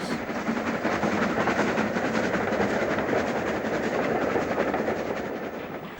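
A J37 steam goods engine of 1961 runs on the Waverley Line between Carlisle and Edinburgh, giving a loud, steady rumble and roar throughout with a faint rhythmic clickety-clack of wagons on the rails.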